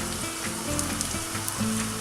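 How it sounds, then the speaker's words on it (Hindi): Sliced onions sizzle steadily in hot oil with added clarified butter, a continuous close frying hiss that carries on throughout. "आप इतने ऑयल ले लें जिसमें आप आसानी से अनियंस को फ्राई कर सकें।"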